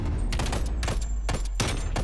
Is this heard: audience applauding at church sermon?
no